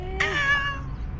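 A stray cat in a park gives one clear, drawn-out meow that rises and then trails off, close by and alone over faint outdoor background noise.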